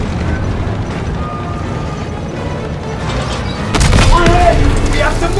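Heavy booms and rumbling blasts of explosions in the World War II shooter Call of Duty WWII, with low battle noise building to a louder burst near the end, under game voices.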